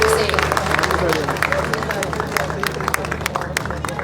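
A seminar hall audience at a livestock expo in Sindh breaks into applause, a dense, steady patter of many hands clapping at close range, with crowd murmur underneath.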